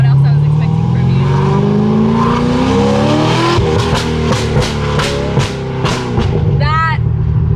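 BMW M3 accelerating hard with a loud, rising engine note that climbs steadily through the gears, continuous and close, with people talking over it.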